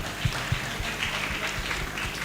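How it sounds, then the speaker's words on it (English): An audience at a financial management workshop applauds, a dense wash of clapping from many hands filling the short stretch with a few louder nearby claps. "please can we give our daddies a round of applause once again?"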